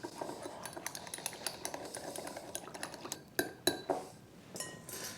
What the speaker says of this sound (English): Whisk.